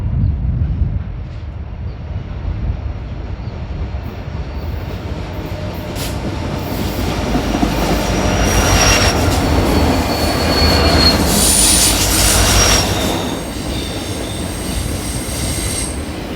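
A CPKC freight train, M337, led by a pair of SD70M-2 locomotives with an SD75I between them, rumbles steadily past at Seminary Street with clattering railcars and high wheel squeal building midway, loud and continuous without talk.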